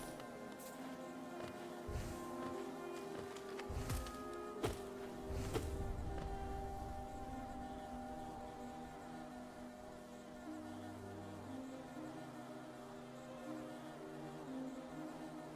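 Bees buzz steadily through the Hollow Knight game's ambience, a continuous insect drone lasting the whole stretch with a few soft thuds early on and no voices over it.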